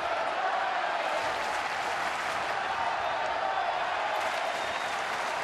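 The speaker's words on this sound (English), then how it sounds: "Crowd chanting, "Let's go Giants."" A sellout baseball stadium crowd at a Giants home game against Colorado roars and cheers steadily throughout, a dense, continuous wash of many voices with no quiet gaps.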